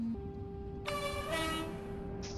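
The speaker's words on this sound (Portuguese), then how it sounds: "A buzina dele." A train horn in the Roblox game Terminal Railways: a harmonic blast sounds after a short low tone, holding steady for over a second before a brief higher tone cuts in at the end.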